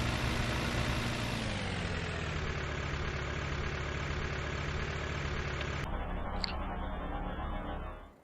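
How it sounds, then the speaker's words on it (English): A modded vehicle engine in Farming Simulator 2015 drones loudly and evenly at idle, shifting to a thinner tone partway through before cutting off abruptly at the end. "The engine note, it just doesn't sound right."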